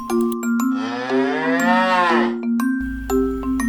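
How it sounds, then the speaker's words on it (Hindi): A cow gives a single long, loud moo that rises and falls, over a steady tonal background with a few faint clicks and knocks, and no talking. "हाँ, ये तो काऊ बोली है। काऊ करती है मू मू मू।"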